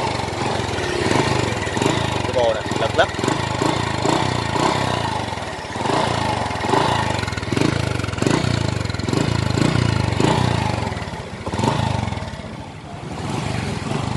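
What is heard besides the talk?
Honda Future Neo 2009 motorcycle engine revving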